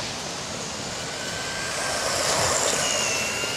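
An electric RC truggy, a shortened HB D8T Vorza, runs at three-quarter throttle with a steady, near, high whining motor hum and rushing drivetrain noise that swells slightly louder toward the end.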